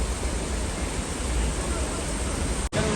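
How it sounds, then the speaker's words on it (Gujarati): Gira waterfall at Saputara roars in the monsoon, a dense, constant rush of falling water that fills the whole scene, loud and close, with a brief dropout near the end. "તમે આવો ધોધ કેદારનાથમાં જે રીતે અત્યારે અખંડ પ્રચંડ ચાલી રહ્યો છે ને ધોધ, એ જ રીતે આ રુદ્ર સ્વરૂપ ધારણ કર્યું છે."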